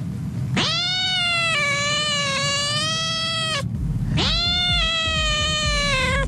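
A man on a Spanish-language radio comedy show imitates a cat with two long, loud, drawn-out meows, each rising and then holding before fading, delivered close and alone.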